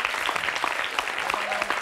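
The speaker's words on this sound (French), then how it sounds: "Oui, on les applaudit." People clap for children in a busy indoor space, a brisk, continuous patter of applause at moderate volume with voices talking underneath.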